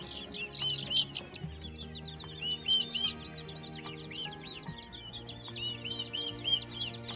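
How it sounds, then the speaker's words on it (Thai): Newly hatched turkey poults, just out of the incubator and cold, peep continuously in shrill overlapping calls from a nursery pen. The chirping is close and busy, with no talking. "ลูกไก่งวงนะครับ"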